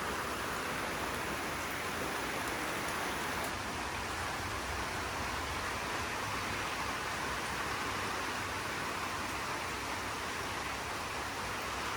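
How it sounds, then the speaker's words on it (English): Heavy rain falls in a thunderstorm, a dense, steady hiss that holds unbroken for twelve seconds with no talking. "It has been raining and lightning and thundering for like 2 hours."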